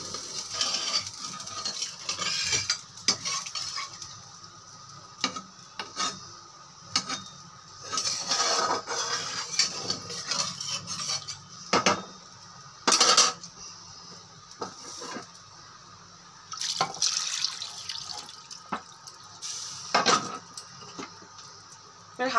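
A ladle scrapes and knocks against a pot while chicken, rice and dal are stirred together, in uneven bursts of clinking and scraping with quiet gaps between.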